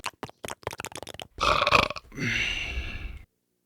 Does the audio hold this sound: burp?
yes